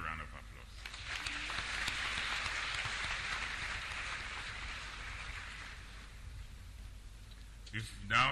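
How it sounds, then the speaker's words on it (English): Applause for the Vice Chancellor at a university congregation ceremony, a broad sustained crowd clapping that swells early and slowly tapers over several seconds, with a brief voice near the end. "Let's give the Vice Chancellor another round of applause."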